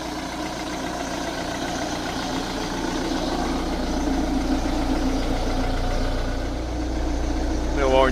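A Ford Transit Mk6 recovery truck engine idles with a steady low rumble, a faint whirring from the water pump running underneath, heard up close with a voice speaking over it.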